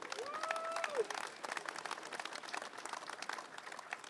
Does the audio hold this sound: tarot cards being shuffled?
no